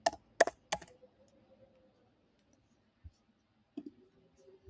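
Computer keyboard keys tapped while searching for a code-editor extension: a quick cluster of three sharp clicks near the start, then a couple of sparse, quieter taps later, close and clear with no talking.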